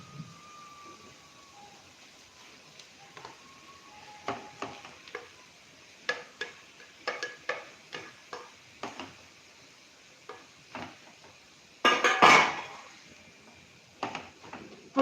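A spoon scrapes and stirs boiled peas into mashed potato masala in a pan, making a run of short, irregular clinks and scrapes. There is one louder, harsher scrape near the end and little else in the background.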